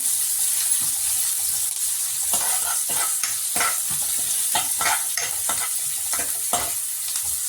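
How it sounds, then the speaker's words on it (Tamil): Curry leaves and green chillies frying with onions in a pan for Tamil tomato thokku, a steady sizzle with repeated stirring scrapes and clicks throughout, close and fairly loud, with no voices. "இப்போ கருவேப்பிலையும் பச்சை மிளகாவையும் ஆட் பண்ணிக்கலாம்."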